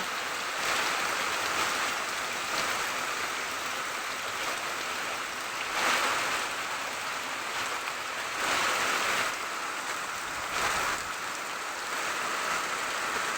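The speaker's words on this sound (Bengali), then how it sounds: "এত বৃষ্টি হচ্ছে কি বলবো" Heavy rain pours down steadily in a dense, continuous hiss that swells in a few louder gusts, with no voices over it.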